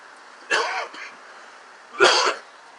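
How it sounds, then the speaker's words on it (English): Two bursts of a man clearing his throat, each about half a second long with a pause between them, heard up close during a church sermon. "I have to clear my throat."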